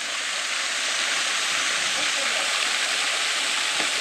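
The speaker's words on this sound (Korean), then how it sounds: "첫 번째 맞이하는 폭포입니다" A small, modest waterfall in a Naebyeonsan valley pours in a steady, close, broadband rush that stays even and unbroken throughout, with no voices over it.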